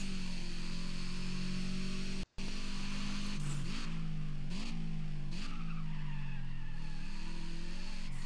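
Car tires squeal steadily as the car understeers through a corner, with a continuous high screech over a droning engine and several rising and falling tire pitches, close and sustained.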